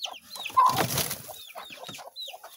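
A chicken near its nest gives a run of short, repeated clucks and higher squawky calls, close by, with a brief burst of broadband noise in the middle.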